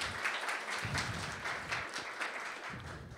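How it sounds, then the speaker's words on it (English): An audience at a morning awards event gives a round of applause, sustained, fairly quiet clapping from a room of people that holds steady throughout without speech. "So big round of applause for everybody for joining us this morning."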